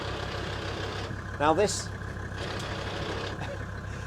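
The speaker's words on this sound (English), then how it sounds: "Little bit of diesel noise, little bit of diesel rattle in the vehicle." An OM605 turbo diesel engine fitted in a series 1 Land Rover idles with a low, steady diesel rattle and hum, running continuously beneath a voice.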